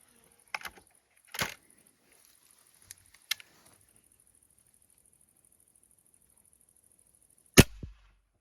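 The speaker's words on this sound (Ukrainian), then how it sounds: "Стріляємо в дошку і одразу замірюємо швидкість." A few sharp mechanical clicks and clacks, then a single loud crack of an air rifle firing a 4.5mm armor-piercing pellet into a pine board with a hard impact.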